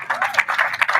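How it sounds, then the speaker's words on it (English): Applause from an audience at a wedding lunch for the newlyweds, a steady dense patter of many hands clapping close by, with no speech over it. "Let's give them a big round of applause, ladies and gentlemen."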